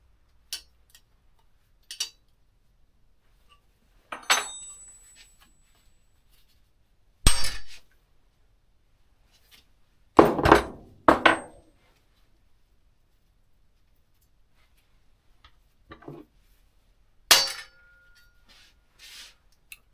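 Sparse, sharp metallic taps and clinks of hammering at stuck, rusty cotter pins on a 1940s vintage town bicycle, several isolated strikes and short clusters spread across long silent gaps, close and with no voices.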